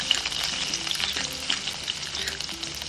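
Crushed garlic frying in a couple of teaspoons of oil, a dense, continuous close-up sizzle with crackling pops and no voices.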